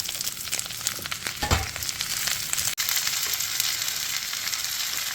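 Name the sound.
chopped vegetables and turmeric frying and stirred in oil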